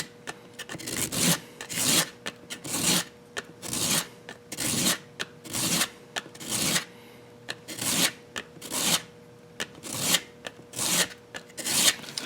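A metal coin ring rubbed by hand with 100-grit sandpaper, making a steady, even rhythm of close, rasping strokes, roughly one or two per second, with no talking.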